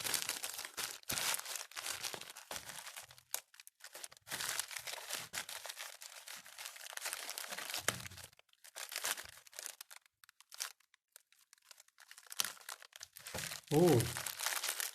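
Plastic packaging of a cat toy being opened and cut, with close crinkling, crackling and tearing in uneven bursts, broken by brief pauses and a louder rustle near the end.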